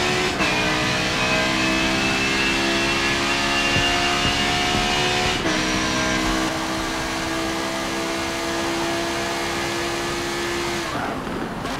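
Audi race car engine in Forza Motorsport 7 revving hard at high speed, a loud steady droning whine that dips briefly with a gear change and then climbs again, close and continuous with no talking.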